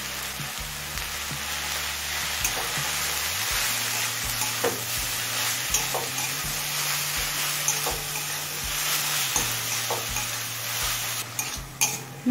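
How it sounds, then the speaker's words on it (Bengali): Greens (susuni shaak) with salt and turmeric are stirred and fried in a pan, a steady sizzle broken by repeated close scrapes and knocks of a spoon against the metal, with no talking. "নুন আর হলুদটা দিয়ে শাকের সাথে মিশিয়ে নিয়েছি।"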